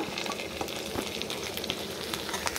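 Garlic and green chili sizzle in hot oil, making a continuous close, bright hiss with small crackles and spatters that hold steady at moderate loudness from start to finish.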